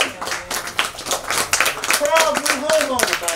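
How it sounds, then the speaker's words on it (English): Brief scattered clapping from an audience at a live haiku poetry slam, a few seconds of hands overlapping with a host talking over them. "Good job giving it up to Jason."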